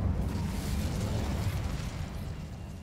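The Incendio fire spell is cast in Hogwarts Legacy, a continuous roaring burst of flame with a heavy low rumble that holds steady for a few seconds, then eases slightly.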